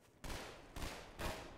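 Gunfire in Half-Life 2: Episode Two arrives as three separate loud bursts of shots, each with a sharp onset and a lingering rumble, spaced about half a second apart.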